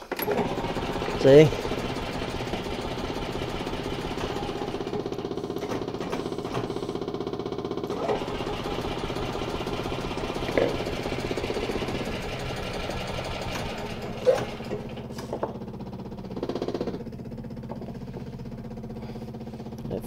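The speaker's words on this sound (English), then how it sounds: "That fuel pump is so noisy" A Yamaha golf cart with its key turned on tries to start while a noisy fuel pump hums and buzzes steadily close by, with a few brief louder knocks, and someone speaks briefly.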